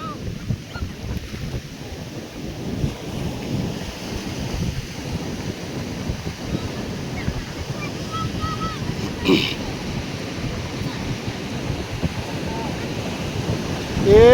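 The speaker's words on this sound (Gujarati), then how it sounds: "એ પાણી આવ્યું હો બાના જોડે છેક બિલ્ડિંગ તોડવા આવે છે." Sea waves surge and wash toward the shore near a building, a steady broadband roar with wind buffeting the microphone and swelling louder at the end.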